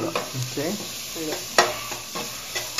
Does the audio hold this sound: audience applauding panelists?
no